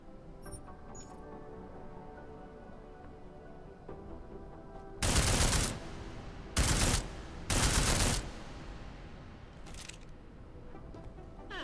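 Unsilenced gunfire on an indoor shooting range in the game Deus Ex: Mankind Divided, three loud bursts of rapid shots separated by short pauses, with quieter clicks and handling sounds around them.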